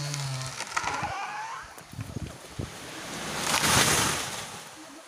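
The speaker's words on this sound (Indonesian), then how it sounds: "Angin." Wind gusts and rushes across a microphone beside a river where timber logs are being hauled, with broad roaring noise that swells loudest near the end, plus scattered knocks and thumps.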